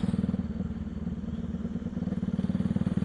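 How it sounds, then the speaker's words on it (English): A Pulsar 200NS motorcycle with a modified exhaust being ridden, a loud, close, aggressive throbbing exhaust note with rapid regular pulses rising and falling slightly in speed. "The exhaust feels very aggressive and it is so loud"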